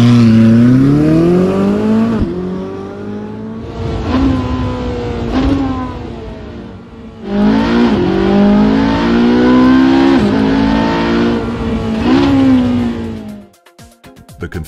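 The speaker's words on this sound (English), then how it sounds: "The position of the tailpipes lends the V8 the full-bodied, low-frequency soundtrack typical of Ferrari's sportiest engines." A 2014 Ferrari 458 Speciale V8 revs hard through several climbing accelerations with quick upshifts, loud and close, its full-bodied exhaust note rising and dropping before cutting off near the end.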